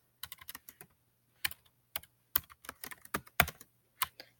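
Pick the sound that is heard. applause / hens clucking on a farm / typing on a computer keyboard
typing on a computer keyboard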